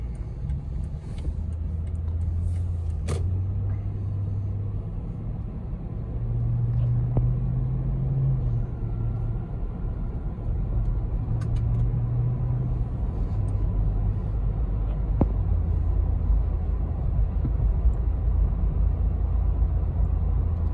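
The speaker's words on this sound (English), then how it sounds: "Let's put this back to the map setting and continue our drive." Inside a Lexus 200 Series Land Cruiser on the road, a low steady engine and road rumble fills the cabin, smooth and continuous with slight swells in the engine note.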